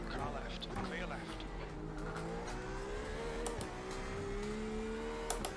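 Race cars in an iRacing IMSA Series race at Lime Rock howl with shifting engine tones as one draws alongside and passes on the left, while someone talks over the steady engine roar.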